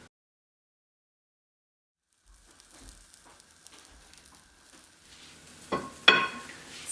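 Black bean veggie burgers sizzling in a pan make a soft, crackling hiss after a quiet start, followed near the end by a couple of louder scrapes and clatters as a spatula flips them.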